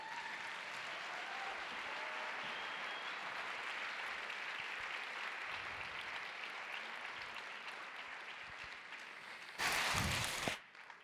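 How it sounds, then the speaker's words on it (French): Steady applause from an audience at a forest-guardians gathering, a dense wash of many hands clapping that runs evenly for several seconds, then a brief louder burst near the end before fading out. "Et peut-être que si vous les applaudissez,"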